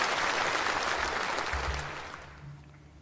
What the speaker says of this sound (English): If no objections, please approve it with a round of applause.